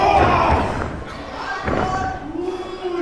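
A crowd at a live wrestling match makes noise, a loud roar of voices mixed with heavy thuds from the ring, swelling and easing over a few seconds.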